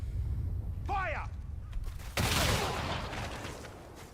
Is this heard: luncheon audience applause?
no